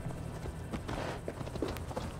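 Horse hooves clip-clop at a steady walking rhythm in the video game Assassin's Creed Valhalla, moderately near and fairly quiet, with no talking over them.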